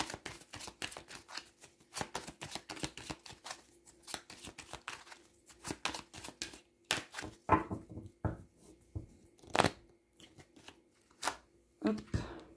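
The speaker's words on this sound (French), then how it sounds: "je vais piocher quelques petites cartes" Tarot cards being shuffled and drawn, a run of crisp riffling flutters and soft slaps in uneven bursts, close and fairly quiet, with pauses between handfuls.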